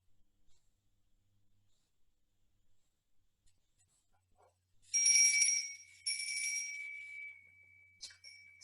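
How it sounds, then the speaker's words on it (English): In a quiet yoga session, a bell rings out twice in clear, sustained strikes, each tone lingering before fading, followed by a faint short chime. "As you hear the bell sound"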